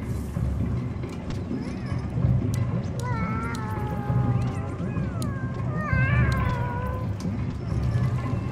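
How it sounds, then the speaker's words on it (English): Sad, plaintive cats meowing in the video game Animal Well, several drawn-out wavering cries overlapping across a steady low background hum, moderately loud. "Those are very sad sounding cats."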